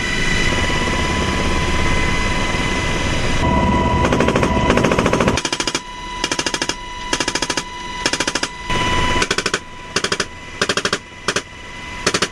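US Army assault helicopter at a live-fire exercise, its rotor drone steady while door gunners fire machine guns in repeated loud bursts separated by short pauses.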